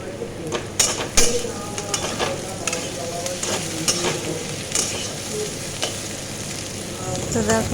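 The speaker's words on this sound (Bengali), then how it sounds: "লাল লাল প্রায় ভাজাটা হয়ে গেছে আমার আলুগুলো" Close sizzling and crackling of potatoes frying in a pan, punctuated by sharp clinks and scrapes of stirring.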